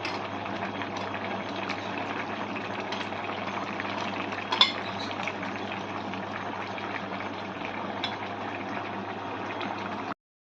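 Fried shrimp are stirred into gourd greens cooking in a pan, bringing a steady bubbling sizzle with soft scraping and a single louder clink of utensil against the pan.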